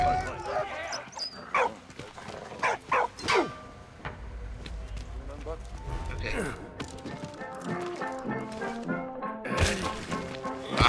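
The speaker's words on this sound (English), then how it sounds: "Oh wait, dog." Dog barks from the World War I video game Valiant Hearts, several sharp yips and woofs over the game's background music, with a person talking intermittently.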